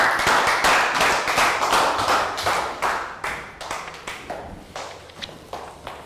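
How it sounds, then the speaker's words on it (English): Young pupils in a classroom give a round of applause, a quick run of overlapping hand claps that settles into a looser, uneven patter and fades slightly over six seconds. "Round of applause"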